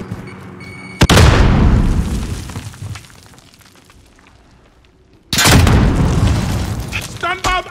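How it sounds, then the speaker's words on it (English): A grenade blast in Call of Duty: Modern Warfare on the Azhir Cave team deathmatch map. Two heavy, loud booms land several seconds apart, each one decaying into rumble, with game voices calling out between them. "Throwing grenade!"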